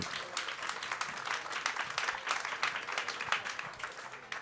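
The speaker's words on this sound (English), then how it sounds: "let's have a big round of applause for these people" Audience applause for a panel of editors at an industry conference, steady dense clapping filling the room with no voices on top.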